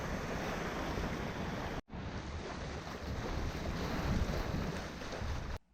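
A Hallberg-Rassy 54 sailboat under sail makes steady rushing wind and wave noise, loud and close with heavy buffeting on the microphone, broken by a brief cut partway through.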